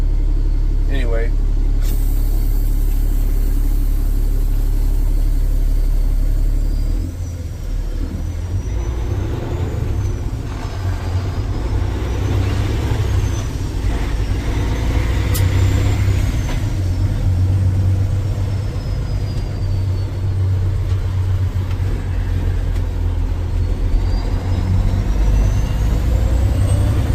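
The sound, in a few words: 2015 Peterbilt 389 truck, Cummins ISX engine running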